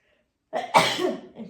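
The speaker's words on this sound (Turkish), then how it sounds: "Ay hapşıracağım." After a short silence, a single loud sneeze bursts out close to the microphone at an outdoor market in Bakırköy, followed by a brief breathy trail.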